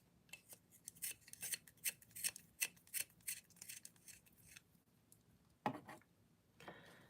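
A colouring pencil is sharpened in a series of close, crisp, rhythmic scraping strokes, about a dozen in quick succession, then a pause and a couple of louder final scrapes.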